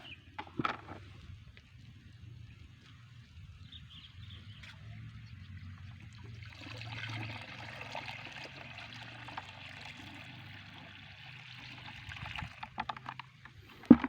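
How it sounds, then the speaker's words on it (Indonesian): Water poured into a mixture for a plant bacterial-spot treatment, a soft trickling, splashing flow that builds midway and runs for several seconds, fairly quiet. "Kita tambahkan air."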